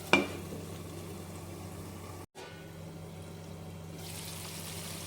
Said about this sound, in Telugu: ఇప్పుడు మూత పెట్టేసుకొని ఒక 5 మినిట్స్ అయితే ఈ మసాలాలో మగ్గనివ్వాలి